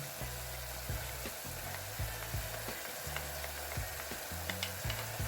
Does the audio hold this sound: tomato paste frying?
yes